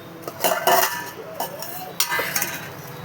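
Oil, cumin and mustard seeds being stirred in a metal pan, close clinks and scrapes of a spoon against the pan in irregular bursts over a faint sizzle, with no talk.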